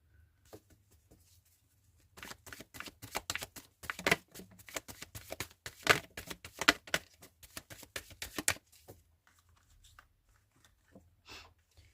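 Tarot cards shuffled by hand in a long, rapid run of riffling flicks and soft slaps lasting several seconds, close and clear, then tapering to a few scattered quiet taps.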